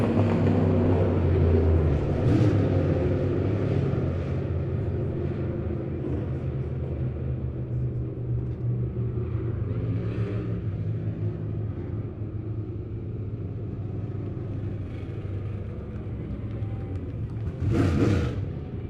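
Stock cars race around the Lebanon Midway Speedway track in a heat, making a continuous roar and rumble with engines swelling and fading as the field passes, and a sharper burst of revving near the end.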